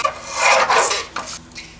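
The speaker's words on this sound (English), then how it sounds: "I'm going to trim the borders off of my book page." Scissors or a blade trimming the border off a paper junk-journal book page give a short dry rasping rub, close and alone, tapering into a few lighter scrapes.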